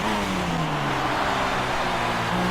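An F1 race car engine in F1 2016 overtaking with DRS and slipstream, a loud continuous high-revving whine that dips slightly in pitch, heard close and steady throughout with no talking.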